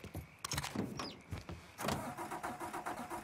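A car engine cranks and starts in the Mafia 3 video game, with door and cabin clunks before the engine settles into a low steady idle, close and fairly quiet.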